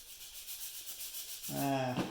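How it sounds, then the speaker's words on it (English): A sanding block rubs over painted areas of a model rocket, a soft steady scraping close by, turning briefly to a louder, tonal rasp near the end. "I could take a little bit of my sanding block, and I could sand a little bit of that down"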